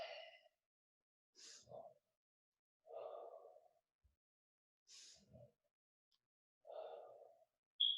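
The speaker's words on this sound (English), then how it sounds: "as you go up your finger, you breathe in" Slow, deliberate breaths drawn in and let out during a finger-breathing relaxation exercise, several soft separate inhales and exhales with quiet pauses between them, close and faint, with no talking.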